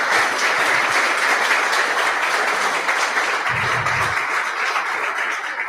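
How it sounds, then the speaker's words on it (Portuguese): Sustained applause fills a church service as the congregation claps for the Lord, a dense, steady wash of many hands close by with no speech over it. "Uma salva de palmas para o nosso Senhor, que é digno."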